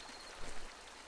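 River water in the video game Eleusis flows as a soft, faint, continuous rushing hiss, with a brief splashy swell midway, like wading through the river.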